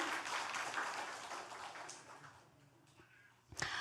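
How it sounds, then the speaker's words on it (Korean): Congregation applause at a Korean church service, a dense spread of clapping that gradually thins and fades, ending with a brief louder burst near the close. "감사와 환영의 박수로 환영해 주시고 감사를 표해 주시면 되겠습니다"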